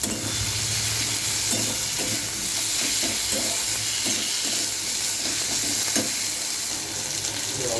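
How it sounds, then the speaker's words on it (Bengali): Prawns are stir-fried in sauce in a pan, giving a steady, close sizzling hiss with soft stirring scrapes that continue throughout without talk. "এবার চিংড়ি মাছগুলো দিয়ে দিলাম, দিয়ে ভালো করে কষবো দিলাম"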